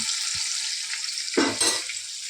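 Tomatoes frying in plenty of oil in a pan, a steady close hiss of sizzling with a brief louder burst of crackle near the end, no talk.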